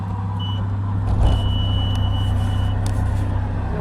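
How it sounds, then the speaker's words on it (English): Skid steer moving logs, a steady low diesel engine drone nearby with a faint beeping tone and a brief bump of louder machinery noise. "I got to get in the skid steer,"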